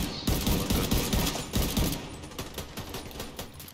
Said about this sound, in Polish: kto koło mnie strzela